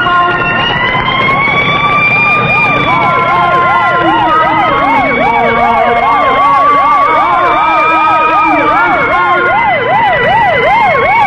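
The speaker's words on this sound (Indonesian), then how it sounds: "Suara sirine mengaung-ngaung tak henti-henti bersuara di sepanjang jalan." A siren wails along a street in West Java, a loud, continuous rising and falling tone that cycles rapidly and steadily, close by and dominating everything, with no talk over it.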